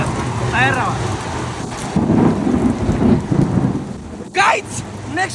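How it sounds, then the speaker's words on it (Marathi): A hailstorm with heavy rain pours down during the Jyotiba Yatra: a dense, loud roar of rain and gusting wind, with low thunder rumbling and brief higher chirping sounds rising above the downpour. "पाऊस फुल वारा आणि गारांचा पाऊस पडायला लागलाय"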